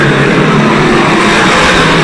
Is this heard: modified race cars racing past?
yes